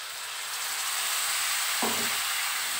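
Onions frying in a pan with a spice paste of turmeric, cumin and coriander powders and salt, giving a steady broadband sizzle that swells slightly as the masala goes in, with a brief thump partway through.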